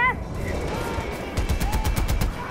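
Mortar and gunfire in Far Cry 4 combat: a rapid burst of sharp repeated blasts builds up over low rumbling, loud and close after a quieter start, with a faint voice underneath.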